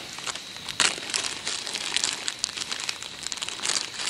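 A small plastic bag holding fishing bottom-rig tackle crinkles and rustles close by, in soft irregular bursts, with no one speaking.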